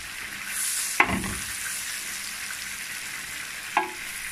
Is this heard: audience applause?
no